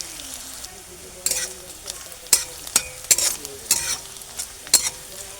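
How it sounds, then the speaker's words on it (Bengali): Onions frying in a pan for masoor dal, with a steady sizzle beneath a series of sharp scraping stirs that come in irregular bursts, close and fairly loud, with no talking. "পেঁয়াজটা যত সময় না লাল হয় তত সময় একটু আমি পেঁয়াজটাকে ভেজে নেব।"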